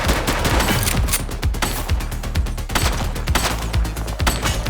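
Rapid gunfire from a police shooter video game, The Precinct, with dense overlapping shots and bursts like a fusillade, loud and continuous for several seconds with no talk.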